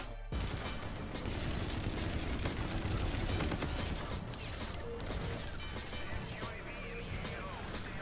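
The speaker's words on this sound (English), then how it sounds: "This guy's straight up shooting down the streets." Rapid video-game gunfire rattles on for several seconds as a dense, loud fusillade of shots and crashes in a street shootout, with excited voices talking over it.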